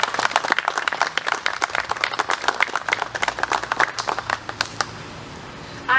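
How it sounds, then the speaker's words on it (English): Applause from an audience at a Daughters of the American Revolution chapter ceremony, many hands clapping in a dense patter that fades after about five seconds, then a near silence. "Please give these ladies a round of applause."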